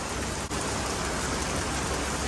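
Steady rain pours down outdoors on a dry day while a 1972 Comet is being loaded, a dense even hiss that fills the clip without a break, close and constant with no talking.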